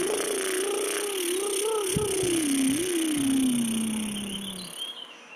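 A person's voice does a lip trill to imitate a car revving its engine. The single sustained buzzing trill sounds close, wavers up and down in pitch, then slides steadily lower before stopping after about four and a half seconds.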